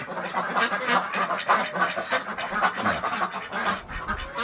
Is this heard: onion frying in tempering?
no